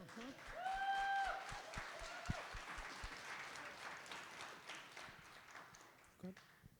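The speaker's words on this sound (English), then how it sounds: "If everyone in this space can we applaud Maria for her awesome work" An audience at a summit gives a moderate round of clapping, scattered hand claps mixed with crowd murmur and voices talking over and after it.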